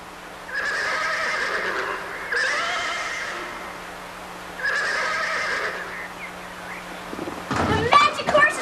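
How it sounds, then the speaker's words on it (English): Horses neigh in three long, loud whinnies with pauses between them. A steady low hum runs underneath, and clattering thuds and a voice come in at the end. "Magnificent horses! They're so beautiful."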